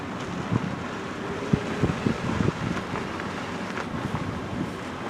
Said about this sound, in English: So we did come down to the harbor.